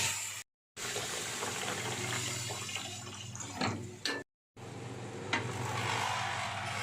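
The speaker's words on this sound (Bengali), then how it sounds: "এর মধ্যে এবার জল দিয়ে দিলাম" Water pouring into a cooking pot in a home kitchen, a steady continuous rush with a couple of brief breaks and small splashy bumps, fairly close and without any talking.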